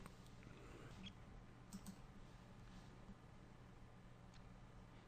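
A computer mouse clicks faintly a few times, sparse light taps spread over a quiet room hum with no voices.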